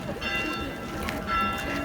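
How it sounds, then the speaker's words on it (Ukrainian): Church bell ringing outdoors near a crowded spot by an almond tree on a walk up past an idle funicular, steady metallic tones sustained under busy crowd chatter and nearby voices. "Церковний дзвін"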